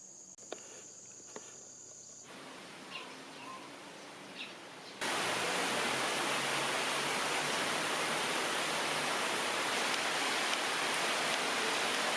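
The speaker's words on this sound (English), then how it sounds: "just a bit of terrible rain today" Quiet outdoor ambience in Sulawesi with faint insect chirps, then a sudden switch to a dense, steady hiss of heavy rain that continues to the end.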